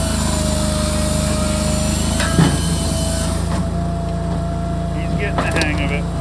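A TYM 264 tractor runs a firewood processor with a steady, loud engine drone and mechanical whine. Occasional clanks and knocks of logs break through, and a voice talks briefly.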